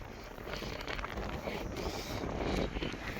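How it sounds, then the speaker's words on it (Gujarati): Strong wind on a road journey in Rajasthan roars steadily and buffets the microphone in a dense, continuous rush, with traces of a voice beneath it. "અને ખતરનાક વાયરો હોય ખૂબ જ."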